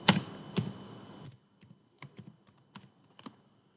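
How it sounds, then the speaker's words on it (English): Keystrokes on a computer keyboard while entering text into an Excel spreadsheet, a dense burst of clicks up front, then scattered separate taps at an irregular pace, close and fairly quiet. "I need to type it"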